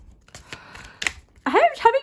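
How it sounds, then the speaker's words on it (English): Tarot cards being shuffled, a few crisp papery snaps and riffles in quick succession, followed by a voice speaking close by. "having trouble shuffling today."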